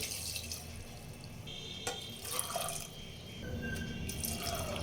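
Water is poured into a pot of peas for Bengali-style chicken ghugni: a soft, faint splashing trickle with a few drips against a noisy kitchen background.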